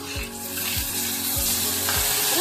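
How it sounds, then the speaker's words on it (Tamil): Onions with turmeric sizzle steadily in a hot pan for a clay-pot tamarind gravy, a dense continuous fry with a few soft low knocks of the spoon, close and fairly loud with no talking. "மஞ்சத்தூள் வெங்காயம் நல்லா பொன்னிறமாக வதங்கி வந்துட்டு"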